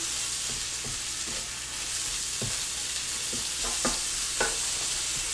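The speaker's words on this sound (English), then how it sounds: "You can hear this sizzling. Hash browns are sizzling." Steady, dense sizzling of hash browns frying on a hot griddle, with occasional soft scraping taps from a utensil.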